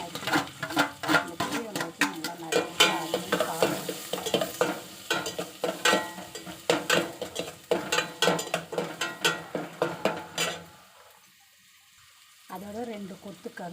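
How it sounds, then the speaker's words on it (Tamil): Crushed garlic sizzles in a pan for a Tamil-style banana stem and cabbage stir-fry, with a spatula scraping it in quick, rhythmic strokes before a short pause and a final stir. "கொஞ்சம் பூண்டு தட்டி வச்சுருக்கேன். அதையும் போட்டு நல்லா கிண்டிக்கிட்டு"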